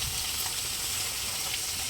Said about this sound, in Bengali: দেখো এখানে আবার মাছ ভাজা হচ্ছে